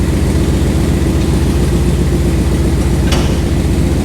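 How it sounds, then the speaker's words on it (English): A second-generation Dodge Ram 1500 with a swapped-in Hemi idles steadily with a heavy low rumble, and one brief clunk comes near the end as the transmission is put into reverse without the truck moving. "Oh, see how it kind of just clunks and it doesn't go anywhere?"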